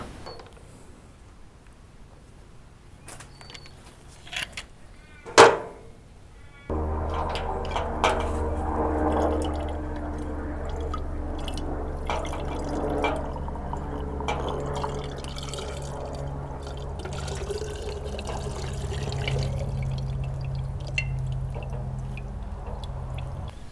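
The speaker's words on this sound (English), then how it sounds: "I'm going to catch all the diesel that comes out in this coffee jar." Diesel drains from the fuel filter of a Nissan GU Patrol into a clear glass coffee jar, a steady close trickle and splash of liquid running on after a few sharp knocks.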